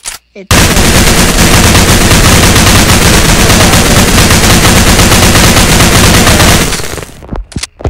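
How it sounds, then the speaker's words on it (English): Rapid automatic gunfire from Roblox Military Tycoon bursts in loudly after a brief word and rattles on continuously for several seconds before cutting off. "So if we stand here and we just shoot at it."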